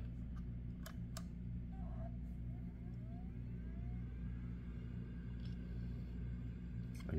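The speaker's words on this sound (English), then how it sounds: "You hear a hard drive spinning up." A hard drive spins up inside a Sabrent SATA-to-USB docking station, a low steady hum and whir with a few faint clicks, quiet and close.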